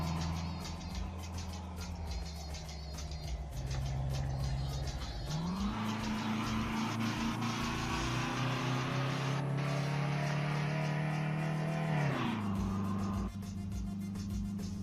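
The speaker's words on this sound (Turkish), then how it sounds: "Ben arabayı bağırttırmayı seviyorum." Engine of a Renault Symbol car in Euro Truck Simulator 2 revving hard on a Kastamonu road, a loud continuous drone that climbs in pitch, shifts up twice and carries on steadily, with no talk over it.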